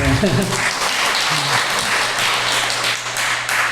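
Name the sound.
church congregation applauding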